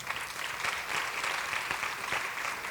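A church congregation applauds steadily and fairly softly, a dense continuous wash of clapping with no voices over it.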